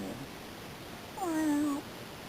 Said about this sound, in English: So basically, you got a cat there.